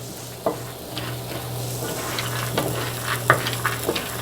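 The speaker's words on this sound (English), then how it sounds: "While my peanuts are roasting on low" Peanuts roasting on low heat in a pan with garlic and onions for a peanut salsa taquera, giving a soft steady sizzle with a low hum beneath and a few sharp clinks and scrapes of stirring.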